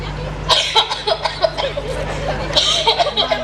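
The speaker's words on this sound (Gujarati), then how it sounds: "જો તો ખરા એને કેટલી બધી ઉધરસ થઈ છે" Several short, harsh coughs come in quick succession, close by, with murmuring voices and light laughter around them.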